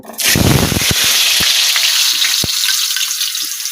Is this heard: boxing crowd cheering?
no